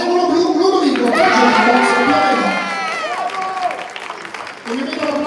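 Crowd applause and cheering at a regional under-15 boxing tournament in Veneto after the 60 kg category verdict, loud and continuous with an announcer's voice over the top, fading slightly toward the end.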